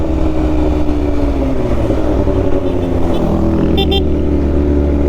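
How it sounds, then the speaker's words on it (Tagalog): A Suzuki Raider motorcycle engine drones loudly and steadily from up close during a ride, with slight shifts in pitch as it revs and a brief higher whine toward the end. "pabomba pa yung Raider"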